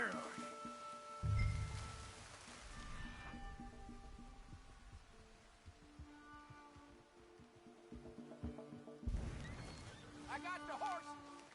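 Horses in Red Dead Redemption 2 whinny and clop their hooves on the ground in a game scene, with sound effects rising at the start and end and characters' voices talking throughout.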